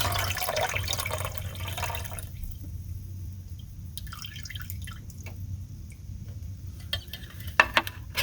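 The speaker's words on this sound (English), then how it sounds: "And I'm going to drain the juice off the peas." Juice is drained off canned peas into a cooking setup inside a van, making a steady close trickle and dribble of liquid, with a few drips and light clinks near the end.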